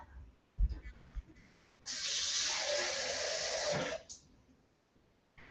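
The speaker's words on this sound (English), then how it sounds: "So let me get a little bit more water." Water runs from a kitchen tap for about two seconds while rice and beef cook, a steady close hiss of flow preceded by a few clanks and handling noises, in an otherwise quiet room.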